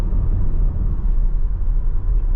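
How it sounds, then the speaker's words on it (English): A truck passes a Tesla on a highway at about 55 mph. A steady, loud low road rumble and engine drone fills the cabin throughout, with no speech. "There comes the truck."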